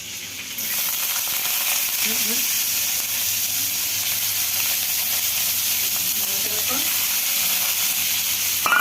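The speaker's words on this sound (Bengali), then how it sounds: "তেলটা গরম হয়ে গেছে, এবার আমি দিয়ে দেবো স্টার ফুডগুলো" Dried red chillies and five-spice seeds (panch phoron) sizzle in hot oil in a home kitchen, a loud, continuous frying hiss with occasional soft stirring sounds, a voice briefly audible beneath.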